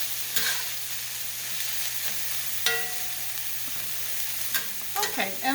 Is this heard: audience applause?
no